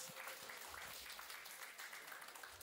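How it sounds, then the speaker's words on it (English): A crowd applauds steadily throughout at a birthday and wedding anniversary celebration, a dense patter of many hands clapping at moderate volume. "Round of applause as they make their way"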